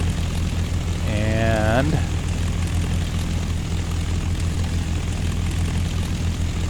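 A Spitfire's propeller engine roars loud and steady as the aircraft rolls down the runway, with someone talking over it and a brief rising whine early on.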